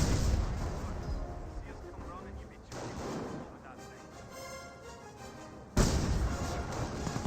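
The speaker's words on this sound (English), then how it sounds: "50-pounder receiving a bit of Hummel barrage there" A Hummel artillery barrage in Company of Heroes pounds a British 50-pounder gun with repeated heavy booming impacts and rumbling blasts, loud and dense, with a commentator talking over the battle.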